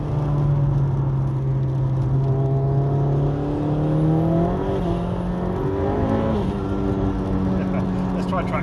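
A Vauxhall Astra H VXR with an EFR turbo conversion accelerates gently, its engine note climbing steadily in pitch, with a faint whine over a constant loud drone inside the car.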